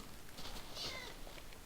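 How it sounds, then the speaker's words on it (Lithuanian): A cat meows once in Minecraft, thin and synthetic-sounding, over a steady background hum of game noise. "Čia katė."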